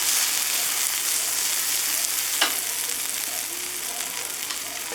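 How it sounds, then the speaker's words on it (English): Steady crackling sizzle of deer steaks frying in a hot pan, loud and close, with a faint clink partway through and no talking. "Just sizzle."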